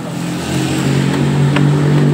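A Yamaha Mio Soul scooter engine, hooked up with jumper cables, cranks and runs loud and close with a steady droning hum that builds slightly, no talk over it.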